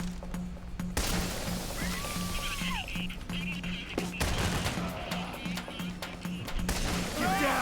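Gunfire in the video game Payday The Heist, sharp shots scattered through a steady in-game hum, with people talking over the shooting.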